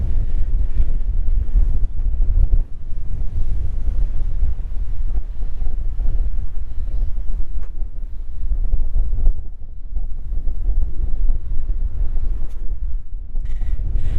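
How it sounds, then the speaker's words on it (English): Strong gusting wind buffets a covered microphone at a canyon overlook in Cedar Breaks National Monument, a steady low roar with surging gusts and no voices. "Glad I got the little dead cat thing on the microphone, because it's pretty windy up here"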